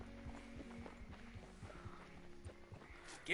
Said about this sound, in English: There's still some horses here?